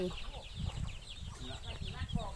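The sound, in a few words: chickens clucking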